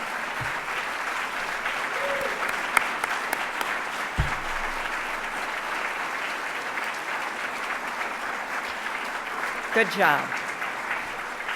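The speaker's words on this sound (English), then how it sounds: "I'm going to make you all stand up again for applause" Standing audience at an honors presentation applauds steadily for over ten seconds, a dense sustained clatter of clapping with a voice briefly speaking near the end.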